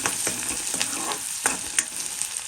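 Onions frying with cumin, mustard seeds, asafoetida and spices for a dal tempering, a close, steady sizzle broken by repeated quick stirring scrapes.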